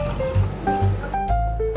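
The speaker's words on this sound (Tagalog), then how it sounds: "Pour natin guys." A cocktail called the Wake Up Call is poured into a glass at a rooftop lounge. Liquid gurgles and trickles in short bursts, and the pitch rises as the glass fills.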